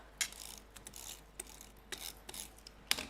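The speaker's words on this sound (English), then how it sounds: "So I'm going to go in with my dotted tape pen around the edges, like so." A dotted tape pen is run around the edges of a card, giving quiet clicky ratcheting taps in an irregular rhythm, close and faint, with no talking.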